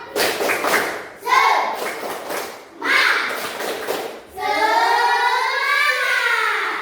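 Classroom group doing a rhythmic 'tepuk semangat' clapping chant, bursts of unison claps alternating with children's chanted voices, close and fairly loud.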